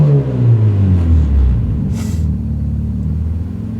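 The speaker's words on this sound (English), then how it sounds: "here's what it looks like when I rev now" A Nissan 240SX with an idle hesitation problem revs once up close, its loud engine rumble swelling and then sinking back toward a rough idle.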